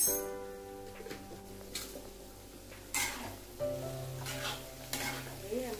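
Spice masala for a Bengali banana flower ghonto sizzling in a pan while being stirred, with occasional louder scrapes and clinks of a utensil against the pot over a steady frying hiss.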